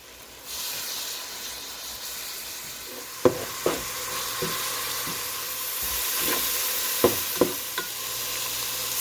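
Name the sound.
bacon and onion frying in a large pot, stirred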